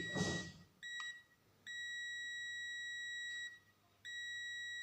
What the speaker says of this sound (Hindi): ये बजर बज रहा है इसका, ये तो ये कंटिन्यूटी इसकी सही है